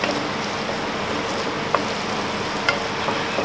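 Garlic and onion softening in a casserole dish for a chicken and leek pot pie, giving a steady, even sizzle close up with a couple of faint clicks, no talking.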